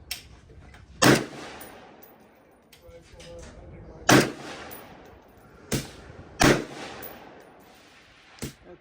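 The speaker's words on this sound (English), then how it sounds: "As I went for the 3-shot group, I dropped my first shot." Three rifle shots from a SCAR 20S chambered in 6.5 Creedmoor ring out at an outdoor range, loud sharp cracks spaced a couple of seconds apart, with a smaller report near the end.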